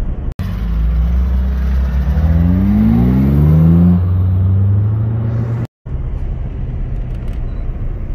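A BMW 320 E21 engine revs hard and close, the pitch climbing in sweeping surges before settling to a steady idle rumble, with one abrupt cut near the end.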